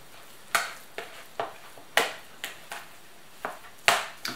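Food frying in a pan being stirred, with a series of sharp utensil scrapes and taps at an irregular rhythm, close and fairly loud, with no talking.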